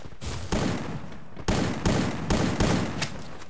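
Gunfire in a video game: a handful of loud, punchy shots cracking out at irregular intervals over a few seconds, with no talking over them.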